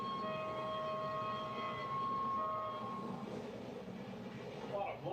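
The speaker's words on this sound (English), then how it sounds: "We're taking the train from the most western point in Europe, Cabo Roca, Portugal, all the way to Asia." A train travels across Europe, with a loud steady rumble of rolling wagons and a sustained tonal whine or horn-like tone carried through the first few seconds.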